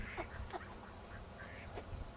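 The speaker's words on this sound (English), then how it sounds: "Oh, that's an ordinary duck" Ordinary ducks quack faintly outdoors, a few short nasal calls spaced irregularly over soft background noise.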